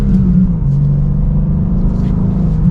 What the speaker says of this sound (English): And then we'll do another acceleration.